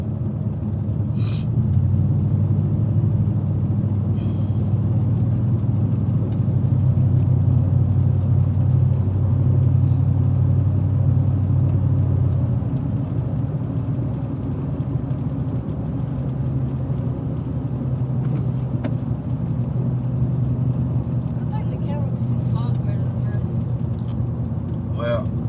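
Road traffic rolling past on a foggy day, a low continuous rumble of car engines and tyres that swells and eases over the span, with people talking over it.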